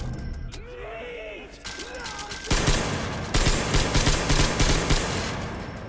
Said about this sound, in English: Shotgun! That's a shotgun.